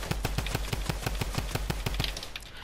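A gold SCAR assault rifle fires a rapid, evenly spaced burst at a structure in a building-focused shooter game, each shot loud and close, roughly a dozen rounds in under three seconds with no talking.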